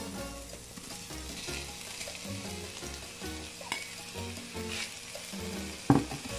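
Beef for beef pares sautéing in a hot pan with ginger, a steady close sizzle and frying hiss with stirring scrapes, one sharp clatter near the end, no voices.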